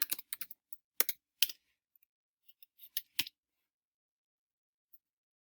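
Keys on a computer keyboard are tapped out as a search query is typed, a sparse run of crisp clicks in irregular bursts separated by quiet.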